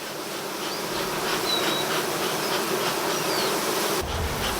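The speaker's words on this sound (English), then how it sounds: "Quite a few bees up here." Dense, steady buzzing of many honeybees in the upper medium box of a re-queened hive that was formerly Africanized, continuous and close throughout with no talking.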